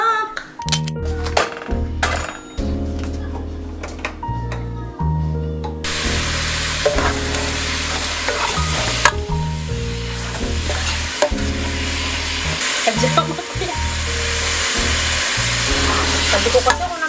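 Food sizzles and fries in a pan while a utensil stirs and scrapes it, with clinks against the pan. Music plays underneath and voices are heard at times.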